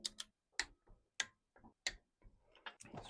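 Torque wrench clicking as bolts are tightened to 24 foot-pounds during a budget Volkswagen engine rebuild: six sharp, close clicks at a steady pace, with faint ratcheting between them and no talk.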